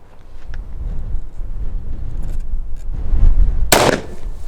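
A single loud shot from a Bond Arms Grizzly .410 Derringer pistol cracks out sharply near the end, following a stretch of low rumbling outdoor background noise.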